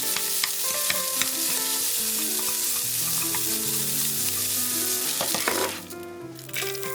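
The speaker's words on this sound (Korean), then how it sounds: "햄은 기름 없이 따글따글 약간 노릇노릇하게 볶아주세요." Ham stir-fried without oil in a pan, the sizzling steady and loud throughout with stirring scrapes and clatter over it, easing off briefly near the end, with no talking.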